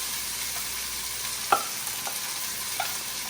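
Two potatoes frying in a medium-hot pan with chilies and nigella seeds, a steady hiss of oil broken by a few spatula clacks and stirring scrapes, no talk.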